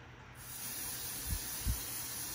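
Two short, quiet bursts of hairspray mist onto a craft gnome's mustache sound a few tenths of a second apart over a faint background hiss.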